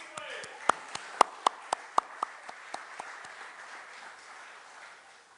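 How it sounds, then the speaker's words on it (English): Scattered handclaps ring out one by one at a historic marker dedication for Coach McKissick and Summerville High, a handful of sharp claps that thin out and fade into quiet room noise. "Billy, would you please stand and let us give you a round of applause"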